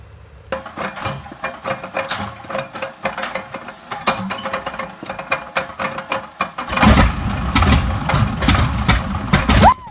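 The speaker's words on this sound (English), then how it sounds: "R1820 Cyclone 9 is an American radial engine developed by Curtiss Wright" A Wright R1820 Cyclone 9 radial aircraft engine is cold started, with irregular coughing pops and sputters at first that build into a loud, continuous rough roar near the end, heard close.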